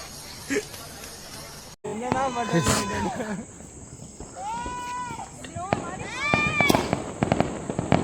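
Diwali firecrackers bursting in sharp, loud cracks and bangs, with fizzing and whistling rockets rising and falling, amid crowd chatter and people talking nearby.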